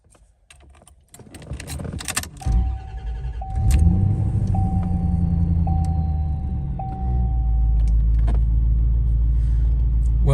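A C4 Corvette ZR-1 engine with a newly installed performance chip cranks briefly then catches and settles into a steady, loud idle rumble, with a faint high whine running through it.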